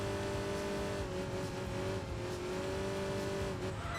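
Microcar engine in Enthusia Professional Racing held at top speed, about 155 mph, down a straight on a banked track: a steady, loud buzzing drone with a slowly wavering pitch, continuous throughout with no voices.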